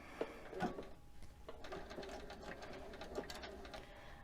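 Sewing machine running a short, slow line of stitches, quiet and close, with a soft uneven mechanical whir and a few small clicks.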